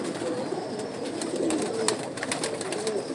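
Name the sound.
pigeons cooing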